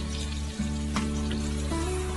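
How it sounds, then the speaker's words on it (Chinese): Mushrooms, egg, green pepper and carrot stir-frying in a wok with salt and soy sauce, a steady close sizzle broken by a brief clatter of stirring, with no talk. "然后翻炒均匀。"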